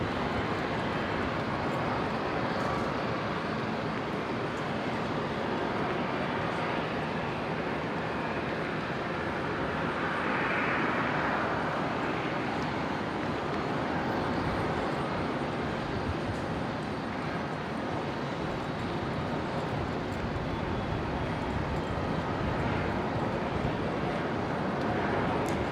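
A Qantas Link Dash 8 turboprop takes off from runway 01 left at Brisbane Airport, heard as a sustained broadband engine roar that swells slightly midway and stays steady.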